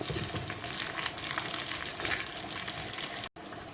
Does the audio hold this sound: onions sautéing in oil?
yes